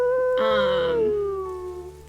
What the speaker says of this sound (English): give at least one more howl